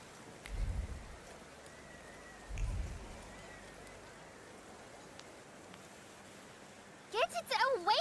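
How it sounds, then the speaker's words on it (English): Rain in the video game The Thaumaturge, a soft, steady hiss with two low rumbling thuds early on, and a voice breaks in at the very end. "And now it starts to rain."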